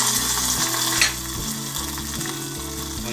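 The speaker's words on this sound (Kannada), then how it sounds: "ಈಗ ನಾನು ಸ್ವಲ್ಪ ಜೀರಿಗೆ, ಸ್ವಲ್ಪ ಕರಿಬೇವು ಹಾಕ್ಬಿಟ್ಟು ಇದನ್ನು ಹಂಗೆ ತಗೊಂಡೋಗಿ ನಮ್ಮ ಮಜ್ಜಿಗೆ ಹುಳಿ ಮಾಡಿದ್ವಲ್ಲ ಆ ಪಾತ್ರೆಗೆ" A hot tempering of cumin seeds and curry leaves sizzles steadily up close as it is poured into a pot of buttermilk curry, with a brief sharp hiss at the start and a continuous frying crackle after it, with no talk.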